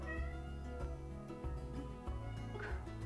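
Several cats meowing for food, repeated close, insistent meows overlapping in quick succession against a quiet indoor background.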